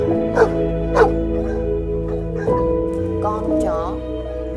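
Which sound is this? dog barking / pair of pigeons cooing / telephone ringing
dog barking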